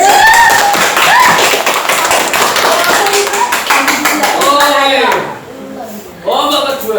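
Classroom students clap hands in a quick rhythmic burst of sharp taps, loud and close, which fades into a brief pause and then is followed by more voices and clapping.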